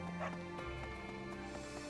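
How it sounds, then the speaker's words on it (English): A dog barks a few times in Fire Emblem: Three Houses, short yips sitting over steady background game music, fairly quiet throughout. "Oh, wait, was that a dog?"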